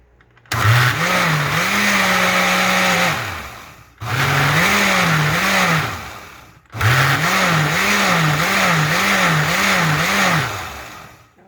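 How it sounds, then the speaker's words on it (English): A kitchen blender making Trini green seasoning whirs loudly in three bursts separated by brief pauses, its motor pitch wavering and pulsing as the contents churn, growing choppier in the last run. "just saw my blender slacken a little bit"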